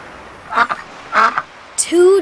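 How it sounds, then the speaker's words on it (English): A cartoonish duck in the I Spy Treasure Hunt video game gives two clear nasal quacks, followed by a higher chirpy game sound, close and loud against a quiet background. "One duck."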